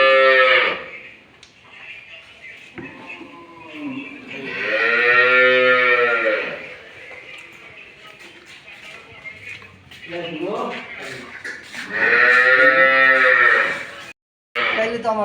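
A dairy cow moos repeatedly while being milked on a farm, with long, loud, drawn-out calls spaced apart, several rising and falling, and some fainter human sounds between them.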